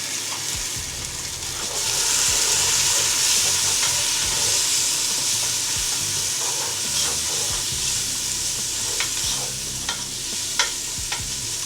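Onion frying in a pan with turmeric, curry powder, crushed pepper, salt and mustard cream, a steady loud sizzle and hiss running throughout, broken by repeated scraping clicks of stirring.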